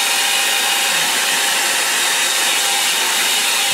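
A hair dryer blasts continuously and loudly up close, drying a watercolour painting of a Lake District landscape with a steady rushing whoosh.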